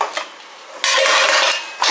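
A set of cooking pots and pans with lids being handled, a brief metallic clatter and rattle, close and loud, in two bursts with a short pause between, with no talking.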